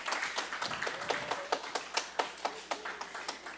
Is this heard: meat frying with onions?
no